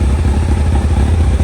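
A Kawasaki ZX12R motorcycle engine runs steadily and loudly nearby, a continuous rough, throbbing idle that stays at an even level throughout.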